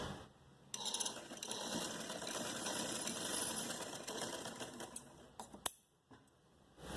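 A sewing machine stitches a short designer frock with box pleats in a steady, close whirring run, with a brief clunk, pause and restart near the end.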